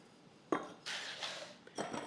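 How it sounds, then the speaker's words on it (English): Succulent soil scooped and poured into plant pots while potting aloe pups, making a few close, gritty scraping and rustling pours separated by short pauses. "So we're just gonna fill our pots up with the succulent soil."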